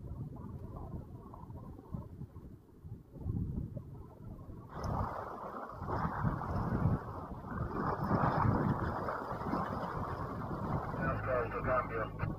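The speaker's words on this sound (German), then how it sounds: "Sehr luftig hier vorne," Strong wind buffets the bow of a sailboat in the shade of the sail, a steady broadband rush that swells louder midway and stays loud, with boat and water noise mixed in.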